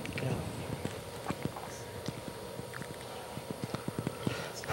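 Horse hooves clip-clop in a steady walking rhythm on a horseback ride, sharp close taps repeating throughout against a low outdoor background.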